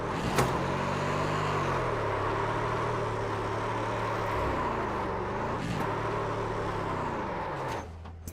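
Simulated race car engine in iRacing, a loud continuous drone with shifting pitch as it revs up and down through gear changes, running alone without talk.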